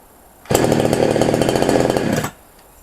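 An HPG 2.4 kW chainsaw, already warm, roars to life nearby, running loud and steady for about two seconds before cutting off, leaving quiet.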